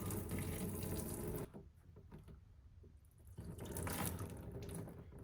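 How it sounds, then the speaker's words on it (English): Water pours and splashes steadily while coolant is drained from a drift car onto a garage floor, the flow briefly easing in the middle before surging again, close and fairly quiet. "I know it's just water, but I still don't want to spill it all over the floor"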